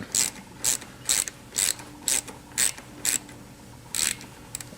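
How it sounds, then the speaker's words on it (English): A hand ratchet loosens the bracket bolts on a motorcycle brake, giving eight crisp, evenly spaced clicking bursts that are close and loud against a quiet background. "I'm going to take a ratchet, I'm going to loosen the 2 bolts that hold the bracket."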